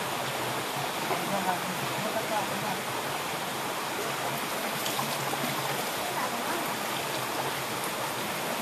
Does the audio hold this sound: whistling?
no